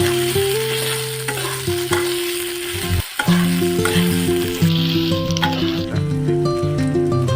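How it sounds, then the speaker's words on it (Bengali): Diced potatoes and ginger paste frying and stirred in a pan for a Bengali mocha malaikari, a close steady sizzle with scraping stirs and a brief pause midway, over a tonal melody in the background. "এবার একটু নাড়াচাড়া করে নেব।"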